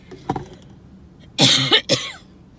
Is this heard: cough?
yes